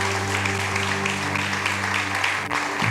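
Church congregation applauding steadily together for a few seconds, a dense even wash of clapping with a low organ or keyboard chord sustained underneath.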